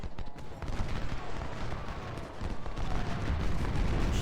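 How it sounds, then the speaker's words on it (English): Musket volleys and cannon fire in the Civil War strategy game Ultimate General: Civil War, heard as a continuous, fairly quiet, rumbling mass of crackling shots with low booms rolling underneath. "Some nice volleys going out actually by our side. Cannons are firing there."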